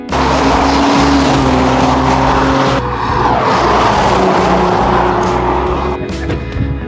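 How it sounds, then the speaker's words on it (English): A Toyota Supra pushed hard along twisty roads, its engine roaring loud and close throughout with squealing tires, alone without talk. "Perfect for really pushing the Supra hard."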